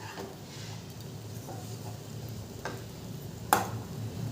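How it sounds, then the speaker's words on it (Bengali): A spoon stirs semolina upma in a pan with soft scraping and light sizzling, quiet and intermittent, with a couple of sharp clicks of utensil against metal. "লোতে করে দিয়ে আমি হালকা একটু নাড়াচাড়া করব।"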